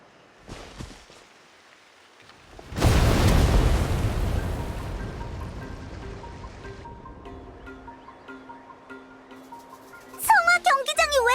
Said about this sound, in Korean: 성화 경기장이 왜 저래? 뭐 폭발한 거야?